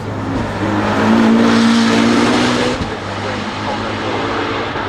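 A hypercar accelerates hard on a track, its engine note climbing loud and close to a peak before easing off and fading into a lower drone.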